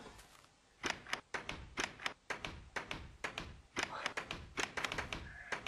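A wooden door in the video game Minecraft is placed and clicked open and shut again and again, giving a quick run of sharp knocking taps and thunks, roughly two per second, close and clear with no talking.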